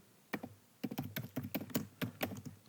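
Someone types a question on a computer keyboard: a rapid, uneven run of crisp key taps close by, with a short pause after the first keystroke and no voices.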